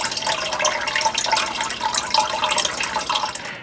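Water gushing from a well pump into a cottage water system, a steady splashing, bubbling stream with fine dripping texture that runs without pause, close and fairly loud.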